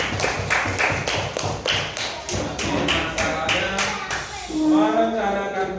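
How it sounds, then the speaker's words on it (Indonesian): A classroom group gives a short round of hand clapping, a loose rhythmic patter of claps with some taps and thumps, fairly close, before a voice starts speaking near the end. "Oke, tepuk tangan untuk kelompok"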